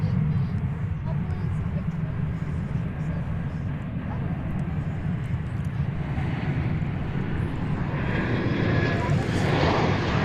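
An American Airlines airliner arriving from Mexico City at DFW Airport gives a steady low engine rumble with a hissing rise near the end, while people talk over it.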